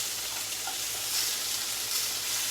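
Peach slices sizzle in a hot skillet, a steady close hiss of frying that holds evenly, with faint stirring underneath.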